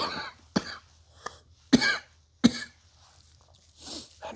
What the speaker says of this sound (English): there's gonna be a lot of coughing in this video